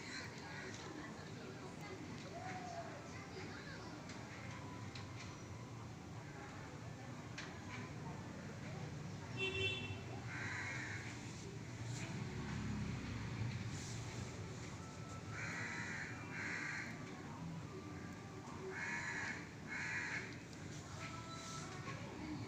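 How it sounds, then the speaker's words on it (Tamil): House crows caw on and off in the distance over a steady outdoor hum, the calls faint but recurring throughout. "தொடர்ந்து காக்கா கத்திக்கிட்டே இருக்கா"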